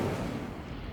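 A fire spell, Incendio, bursts out in Hogwarts Legacy with a loud, dense whoosh of flame. The roar is brief and sustained, with a rumbling low end, and it plays alone without any talk.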